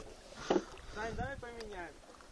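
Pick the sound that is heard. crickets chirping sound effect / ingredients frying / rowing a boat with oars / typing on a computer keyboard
rowing a boat with oars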